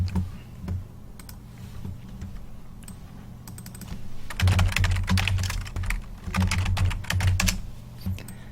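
Computer keyboard typing a search, quiet and sparse at first, then a faster, louder burst of clicking keystrokes near the end.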